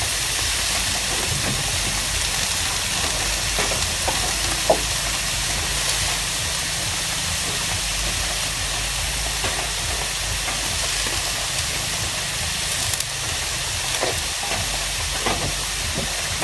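Water poured into a hot pan of cooking pakbet vegetables sets off a loud, steady sizzling hiss that carries evenly throughout, close up with no voices.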